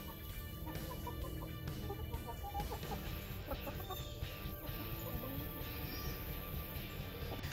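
Chickens cluck and chatter continuously around a backyard coop, several birds close by with steady overlapping calls and a busy farmyard background.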